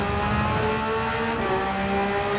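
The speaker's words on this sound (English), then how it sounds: "sliding a Porsche around these corners" Porsche race car lapping Suzuka in a racing video game, its engine holding a steady loud drone with rising and falling pitch as it slides through corners, a brief dip midway, no talk.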